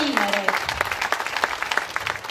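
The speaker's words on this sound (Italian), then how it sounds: "Un applauso a Franceschino Ritondale" Audience applause at an outdoor political rally in Cirella, a brief burst of many hands clapping at moderate distance, with a voice talking over it at the start.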